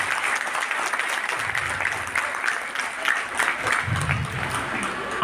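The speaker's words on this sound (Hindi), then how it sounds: "मैं चाहूँगा कि उनके सम्मान में सभी लोग एक बार ताली बजाकर स्वागत करें।" An audience claps at a Holi Milan gathering held by Seva Bharti in Agra: sustained, moderately loud applause from many hands with a faint murmur of voices underneath.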